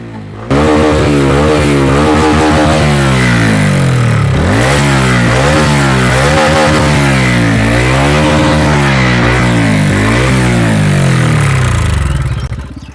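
A TVS Ronin 225 motorcycle engine with a fault runs loud and close, revving up and down repeatedly over a rough, harsh idle for about twelve seconds, with no one speaking.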